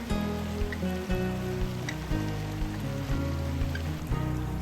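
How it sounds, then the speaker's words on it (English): Lehman Creek, a small alpine stream in the Wheeler Peak area of Nevada, gurgles and splashes close by in a continuous, busy rush of flowing water. "the creek seen here is called the Lehman Creek, which is a small alpine stream that flows down from high elevations of the Wheeler Peak area."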